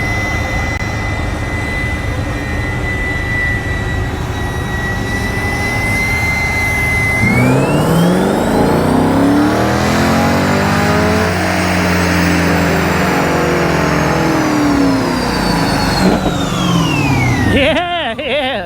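Car engine revving hard on a dyno run at a cars and coffee meet, a loud sustained rising-and-falling roar that climbs, holds high, then winds down near the end.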